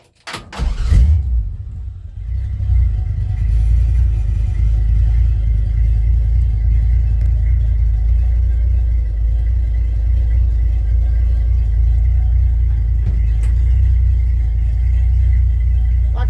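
A 1966 Chevy C10 truck engine cranks and catches within the first second or two, then settles into a loud, steady, deep idle rumble that continues close by.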